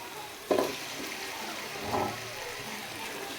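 Chicken drops into oil-rich fried masala, raising a sudden sizzling burst, followed about a second later by a smaller second surge, over a low steady crackle.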